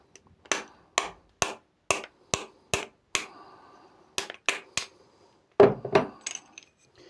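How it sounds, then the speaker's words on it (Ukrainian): A wheel bearing being knocked out with a hammer: a series of sharp metallic strikes, about a dozen, spaced fairly evenly then pausing before a final heavier cluster of blows, close and loud with no talking. "Все, підшипник вибито"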